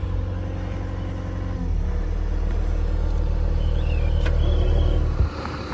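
A Bobcat S250 skid steer engine runs with a deep, steady diesel rumble that swells slightly partway through, then drops at the end, with faint higher squeaks from the machine and no talking.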